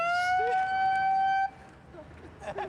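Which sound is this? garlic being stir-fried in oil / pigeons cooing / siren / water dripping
siren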